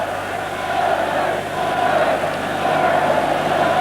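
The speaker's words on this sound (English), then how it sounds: "crowd beginning to get behind Wales now" A stadium crowd at a 1988 Wales versus Samoa rugby match rumbles and cheers behind Wales, a steady far-off roar of many voices that swells slightly toward the end.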